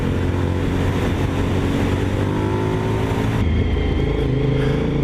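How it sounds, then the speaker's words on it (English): A Honda VTR1000 SP1 motorcycle engine drones loudly and steadily while riding, its pitch shifting slightly as the throttle changes, with wind rushing past. "listen to that engine sound"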